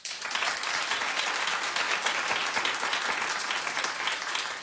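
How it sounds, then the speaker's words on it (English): A television talk-show studio audience claps steadily, dense applause running evenly from start to finish with no voices standing out. "so clap if you love Celebrity Apprentice"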